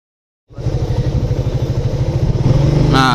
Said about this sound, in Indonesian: Nah, ini kan udah mau mulai jalan nih motornya